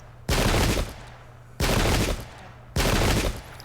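Musket volleys crash out in an English Civil War battle game, three loud, ragged fusillades roughly a second and a half apart, each decaying into rolling echo.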